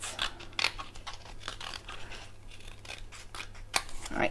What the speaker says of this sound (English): I like cutting card, it's very nice, sort of snippy shapes